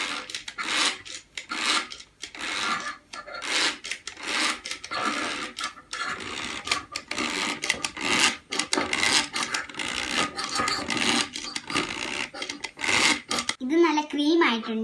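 A hand beater whisks a snow pudding mixture in a bowl with a continuous buzzing, rasping whir. The whir pulses in short surges as the beaters churn, and it runs close and fairly loud from start to finish.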